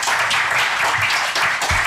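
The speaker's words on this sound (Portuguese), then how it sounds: "Eu queria uma salva de palmas," Applause from a conference audience at an emergency medicine event, a loud continuous roll of many hands clapping throughout, fairly close, with no voices on top.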